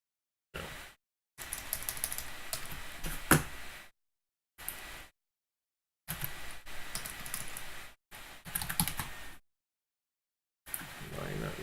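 Computer keyboard typing in bursts separated by pauses, with clustered clicks and key presses at close range in a quiet room.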